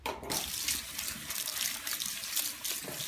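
Running water pours steadily through freshly applied hair color as it is rinsed out, a close, soft splashing stream with faint trickling and no voices.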